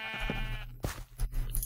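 Sheep in Minecraft give a quick series of short, close bleats, one after another over a low game background hum.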